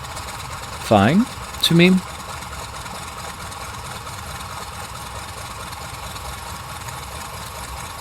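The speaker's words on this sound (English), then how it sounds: "I kind of like the engine sound." A Sukhoi Su-31 aerobatic plane in Microsoft Flight Simulator sits at idle, its engine a steady low rumble in the background, while someone speaks briefly near the start.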